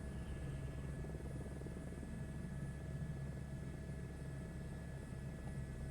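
A helicopter flies in a flight simulator game, its steady rotor chop and engine drone holding an even, low-level rumble throughout, with no voices.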